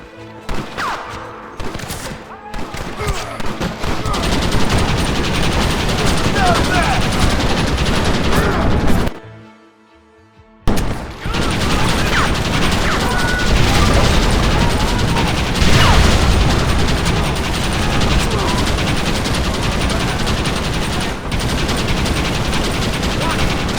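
Gatling gun fire in the Red Dead Redemption video game, a loud, sustained rattling barrage running almost continuously, dropping out briefly near the middle before resuming at full intensity with game noise layered in.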